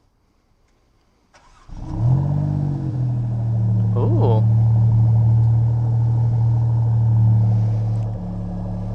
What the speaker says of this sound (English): Maserati MC20. Does it sound good? Twin turbo. Let's turn it on.